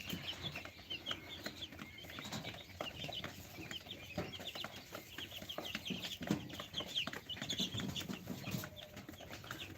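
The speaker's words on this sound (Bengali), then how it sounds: "এটা হচ্ছে আমার টাইগার মুরগির খামার" Tiger chickens on a poultry farm in Bogura, a steady chorus of clucks and soft calls from many birds close by, with occasional wing flutters and scratching throughout.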